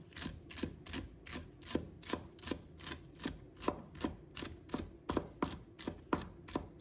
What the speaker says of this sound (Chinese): 再准备几根芹菜，把它切成小粒